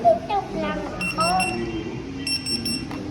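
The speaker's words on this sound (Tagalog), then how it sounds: "Alarm." An alarm beeps in bright repeated bursts at a child's 11th birthday gathering at home, with children's voices and chatter in between.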